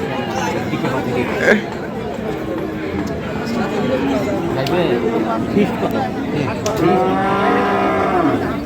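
Cattle moo repeatedly amid a bustling crowd at the Ambari cattle market in Mymensingh, Bangladesh, where bulls are being bought, with people chattering and talking all around and the odd clatter of hooves.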